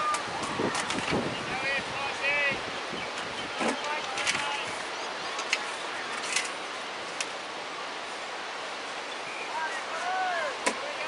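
Gusty wind buffets the microphone at an outdoor cricket ground during a grand final match, a steady broadband rush with faint distant voices and small chirps beneath it.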